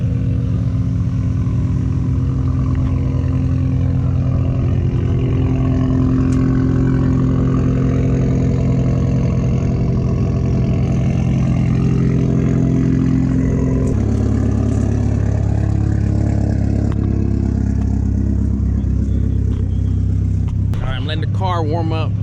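A tuned Mitsubishi Evo X running on pump gas idles with a deep, steady rumble during warm-up, then its pitch shifts partway through as the revs change, loud and close.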